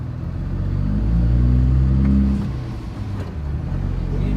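A 700hp Cummins truck pulls away with a loud, steady low-pitched engine rumble that swells and revs up, then eases slightly and holds on, close by with no talk.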